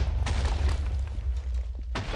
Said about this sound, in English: you're going to hear a few explosions in the back when it actually